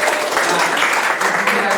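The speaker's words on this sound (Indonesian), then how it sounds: "Ya, terima kasih, tepuk tangan loh." An audience applauds during a university teaching session, a brief burst of dense clapping that stays at an even, fairly loud level throughout.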